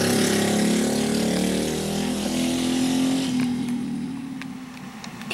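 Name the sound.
go-kart engines on the track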